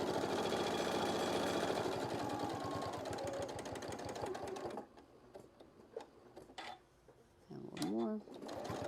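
Sewing machine stitching close to a fabric edge on a shoulder wrap runs in a fast steady mechanical chatter, then stops. A few soft handling clicks and rustles follow.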